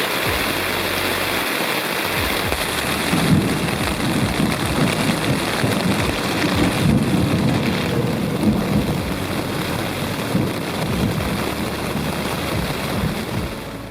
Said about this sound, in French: Toute la nuit sera sous la pluie.